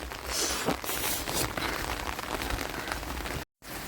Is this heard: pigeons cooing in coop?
no